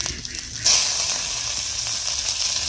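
Food drops into hot oil in a kadai and bursts into a loud, steady sizzle that holds after a sudden onset.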